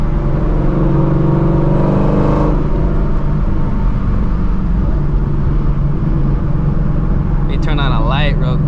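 A Ford Shelby GT350 engine rumbles loudly in a tunnel and its revs rise and fall through a downshift, while someone talks over it near the end.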